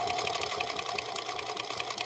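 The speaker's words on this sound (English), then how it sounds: "Naugahyde single layer, and we'll try it on Thalia's Featherweight 221." A Singer Featherweight 221 sewing machine stitches through a single layer of Naugahyde, with a steady, fast mechanical chatter running close and continuous and no voices over it.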